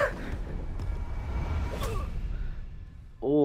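An enemy in the kung fu game Sifu gasping for air, a brief breathy gasp amid low rumbling game sound, followed by a short tonal cue at the end.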